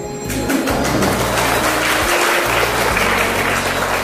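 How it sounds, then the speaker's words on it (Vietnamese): Applause from an audience at a Buddhist monk's Dharma talk, a steady dense wash of clapping that fills the clip at moderate loudness, with a low hum underneath. "Mà vỗ tay có thiệt không hả chứ?"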